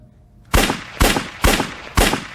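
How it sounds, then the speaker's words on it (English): Four sharp, loud gunshots ring out in an even rhythm about half a second apart, each with a short decaying tail, fired at zombies; there is no talk between them. "I'm gonna shoot them."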